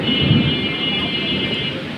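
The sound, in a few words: storm with rain and wind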